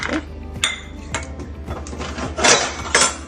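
Cashew nuts drop into hot ghee in a pan while semolina payasam is being made, giving a few sharp clinks and rattles against the metal over a low, steady hum.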